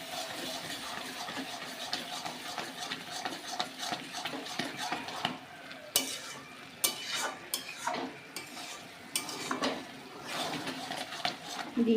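A pan of cabbage curry simmers with a soft, steady sizzle while a utensil scrapes and stirs against the pan in irregular bursts, fairly close and without talk.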